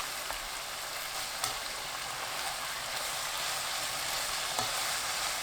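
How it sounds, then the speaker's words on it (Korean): Beef bulgogi with shepherd's purse roots and seasoning sauce stir-fries in a hot pan, giving a steady, close, dense sizzle with a few faint scrapes and clinks throughout. "양념 넣고 1분 볶습니다."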